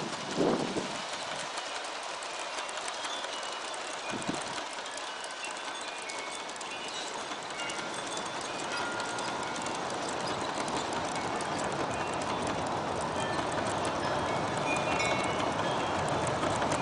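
An Aristo-Craft model train of 39 refrigerator cars and a caboose rolls steadily along, a continuous rumbling clatter of wheels that swells slightly louder as it runs, with a couple of brief knocks near the start.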